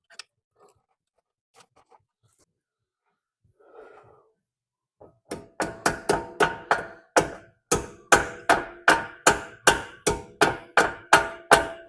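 Small hammer tapping pins flush on a 2012 Mercedes S550 brake or suspension part in a garage, a few scattered light knocks and then a long, steady run of sharp metallic strikes, close and loud.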